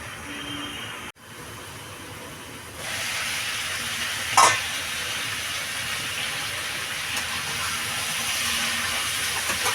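Mixed vegetables for a five-vegetable ghet sizzle steadily in a pan as they are sautéed, a continuous broadband hiss that swells after a few seconds, with a brief sharp clatter near the middle and no talking.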